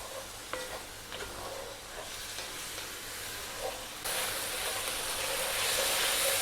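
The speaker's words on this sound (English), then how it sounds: "those onions are cooking down really nicely" Onions for a South African lamb and tomato bredie fry in a pan over above-medium heat, making a soft, steady sizzle with a few faint clicks that grows louder and brighter partway through.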